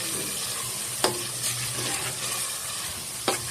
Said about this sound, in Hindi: अब मैं इसमें ये चने की जो दाल है ये मैं ऐड करके, और इसकी मैं अच्छी तरह से तकरीबन 5 मिनट तक इसकी मुसलसल भुनाई कर दूँगी